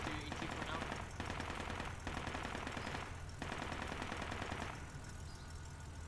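Rapid machine gun fire rattles in sustained bursts in the tactical shooter Project Reality, steady and continuous with brief breaks between volleys, fairly distant and under occasional voices.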